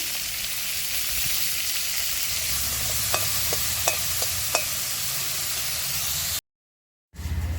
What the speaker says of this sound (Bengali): এবার একটু হালকা লবণ হলুদ দিয়ে লাউয়ের খোসাটা ভেজে নেব